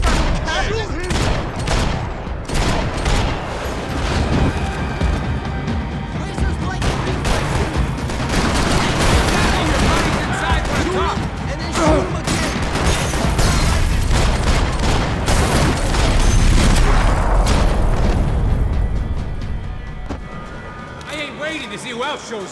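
Gunfire and explosions from the action shooter Max Payne 3 rage continuously, dense bursts and booms mixed with shouting voices throughout.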